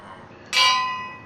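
A Minecraft bell gives a single bright strike that rings out and fades slowly. It sounds loud and close against a low background hum.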